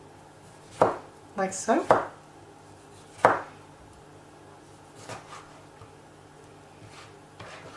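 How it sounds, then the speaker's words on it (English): A kitchen knife slices a tomato into thin rounds on a board for a vegan bean burger, giving a handful of crisp, close chopping taps in a quick early cluster and then one more, with a brief spoken remark. "To prepare the tomato that you're going to put onto your burger, you want to cut some nice fine thin slices"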